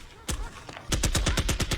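Gunfire in a Doctor Who episode: one shot rings out, then a rapid volley of about eight loud, sharp reports follows in quick rhythm, close and dominant.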